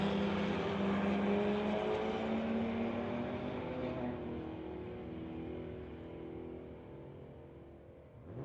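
Drag race cars launch down the strip, a 1985 Regal with a 355 small block Chev against a 2008 BMW, their loud engines roaring steadily and then fading into the distance with no talk.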